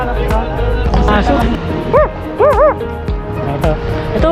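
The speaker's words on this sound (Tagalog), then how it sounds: "Aso." A dog barks in quick yips and high, whimpering yelps, close by and loud, at a park in Taichung, Taiwan, with people talking around it.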